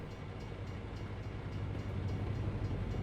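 A freight train rumbling past in American Truck Simulator while the truck sits parked, a continuous low, heavy roar that swells slightly toward the end, with no talking.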